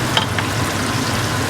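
Ground sesame seed egusi frying in a pot, a steady close sizzle with faint crackles and a light stirring scrape, no voices over it.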